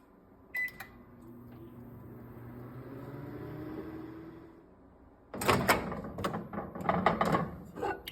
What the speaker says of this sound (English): these are going to go in the microwave.